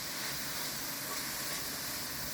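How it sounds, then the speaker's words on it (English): Minced garlic fries in a pan for spaghetti sauce, giving a steady, even sizzling hiss at low volume without a break. "Then I'm gonna add our minced garlic."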